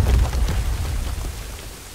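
Rain falls in the video game Star Wars Jedi: Fallen Order as a steady, loud, low rumbling wash across two seconds, easing slightly toward the end, with no voices over it.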